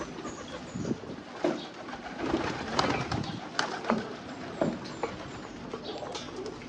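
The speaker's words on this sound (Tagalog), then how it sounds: "Mga kalapati ni sa silingan, ganahan sila diri mo tambay." Neighborhood doves coo softly and repeatedly amid a busy, rustling outdoor background at Patag, Cagayan de Oro, with occasional faint wing flutters.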